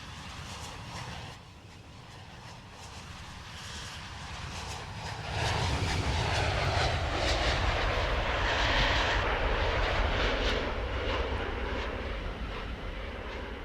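Planes come in over Gatwick Airport in Train Sim World 3, a jet engine roar that swells loudly and holds for several seconds beside the rumble of a Class 700 train, then eases slightly.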